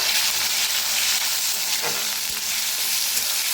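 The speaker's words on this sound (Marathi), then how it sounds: "आता त्याच्यात टाकूया अर्धा टमाटो कापून घेतले बघा छान असं भाजून घेऊया" Halved tomato fries with asafoetida and curry leaves in a kadhai of hot oil, while a stuffed bell pepper bhaji is being made. A loud, continuous sizzle crackles steadily, with a few faint stirring scrapes.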